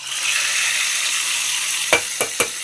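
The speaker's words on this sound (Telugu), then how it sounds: "ఈ పప్పు ఇలా కాగుతున్నప్పుడే ఈ తాలింపు అనేది దాంట్లో పోసుకోవాలి" Hot tempering hits boiling ridge gourd dal with a loud, steady sizzling hiss, close up and without talk, followed by three sharp clinks of a metal spoon near the end.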